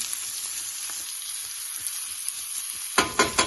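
SPAM pieces frying in hot oil for fried rice, a steady close crackling sizzle with scattered pops, ending in a few louder bursts of spattering near the end.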